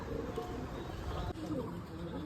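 Racing pigeons cooing softly in a loft, low murmuring coos repeating under someone talking nearby.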